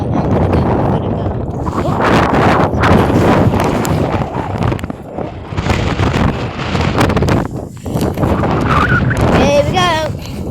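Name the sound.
strong wind at Whitby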